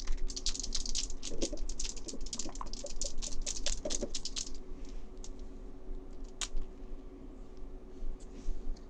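A small bottle of India ink is shaken hard in rapid rattling bursts close by for about four seconds, then stops, leaving quiet room noise and a single tap.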